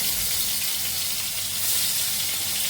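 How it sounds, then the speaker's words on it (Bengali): Hilsa fish fries in a pan of hot oil, a loud, steady close-up sizzle and hiss that holds evenly without pause and with no talking. "মাছগুলো ভেজে নিচ্ছি আমি এখন।"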